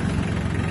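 A Solis four-wheel-drive 26 hp mini tractor with a Mitsubishi engine idles in a steady, close, low rumble that holds even and unbroken throughout.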